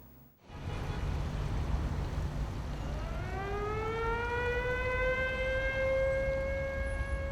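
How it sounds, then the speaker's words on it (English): Air raid sirens over a city during the 1967 Six Day War: a steady low rumble, then a siren wail that rises in pitch and holds a long sustained tone, loud and alone. "They only learn about the war when air raid sirens signal them to go into shelters."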